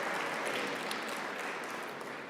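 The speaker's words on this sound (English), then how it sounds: "Please give a round of applause to Dr." Audience applause at the launch of a research centre on human-technology interactions, a faint, steady wash of clapping heard from a distance, alone and without voices.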